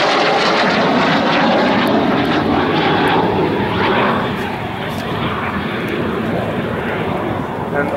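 Estonian Air Force L-39C Albatros jet trainer at RIAT, a loud steady engine roar that fades slightly midway then holds, with no talk over it.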